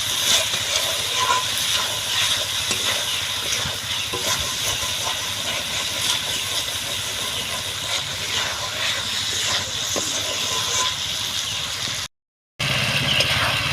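Kuche fish (eel) curry sizzling as it is sautéed in a pan, a steady loud hiss with crackle that runs almost unbroken, with a brief gap near the end.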